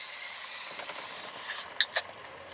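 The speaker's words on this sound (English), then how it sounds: "it's time to deglaze the pan" A pan in a cooking van hisses with steady, loud steam as Murphy's Irish Stout is poured in to deglaze it for a stew. The hiss cuts off sharply, then a couple of small clinks follow.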